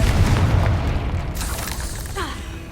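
A Confringo fire spell explodes in Hogwarts Legacy with a loud, deep boom that rolls off into a fading rumble, followed by faint whooshing debris.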